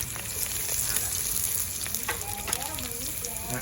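Sliced garlic fries in hot pork fat with a steady, close sizzle and crackle, spattering throughout at moderate loudness.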